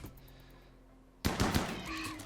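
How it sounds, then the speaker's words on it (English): A single loud gunshot rings out in a video game after about a second of quiet ambient tone, followed by a sharp echoing burst and a ringing tail. "now shoot it"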